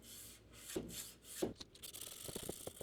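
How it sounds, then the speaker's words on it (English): A knife blade is hand sanded with Scotch-Brite, giving soft, quiet rubbing strokes in an uneven rhythm, with a couple of louder scrapes and quicker short rasps toward the end. "it hand sands way faster than if I just used a hard back on like the platen itself"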